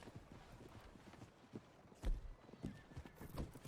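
Horse hooves clip-clopping in a roleplay video game, a few faint, uneven hoof strikes at a distance with no talking.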